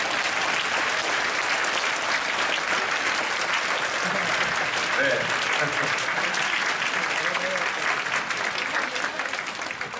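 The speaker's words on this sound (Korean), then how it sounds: "올해 결혼 러시가 일어나도록 한번 박수 한번 칩시다." A church congregation at a Friday night service claps together in a dense, sustained round of applause that fills the room for the whole stretch, with a brief voice somewhere under it.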